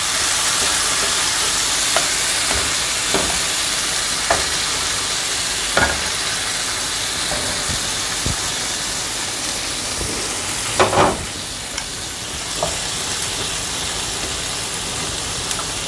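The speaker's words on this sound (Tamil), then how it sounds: "அடுத்தது ஊற வச்சுருக்கக்கூடிய இந்த பன்னீர் க்யூப்ஸ் இருக்குல்ல, அதை நம்ம ஃப்ரை பண்ண போகிறோம்" Marinated paneer cubes frying in oil on a tawa over medium heat, giving a steady broad sizzle with scattered pops and a few brief clatters, no talking.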